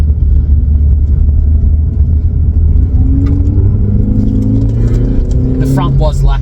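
A Toyota Altezza with a newly fitted sway bar on a test drive gives a loud, steady low engine and road rumble heard from inside the car, with a brief murmur of voice near the end.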